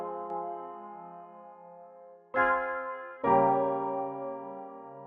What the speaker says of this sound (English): Now I'm just going to layer it with some like analog one shots because it takes up not much CPU and can add a lot of texture to a simple melody.